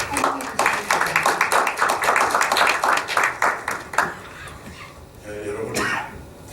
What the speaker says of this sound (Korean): 자, 큰 박수로 함께 해주시겠습니다